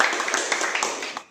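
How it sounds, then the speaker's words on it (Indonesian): An audience claps in a short, brisk burst of scattered hand claps that fades out within about a second. "Tepuk tangan, tepuk tangan."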